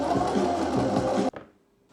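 A sewing machine stitches a fabric bag made from a tablecloth, a loud steady whirring run that cuts off abruptly near the end, leaving a short fading tail.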